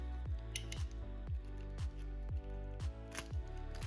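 Scissors cut open plastic toy packaging for a WWE figure in a quick run of repeated crunchy snips, each sharp and close, about two per second.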